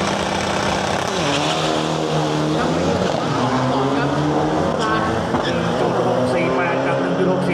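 Isuzu turbo diesel drag trucks race down the strip at Bangkok Drag Avenue, their engines droning loud and steady for several seconds with rising, revving tones layered over continuous roar and a voice talking over it.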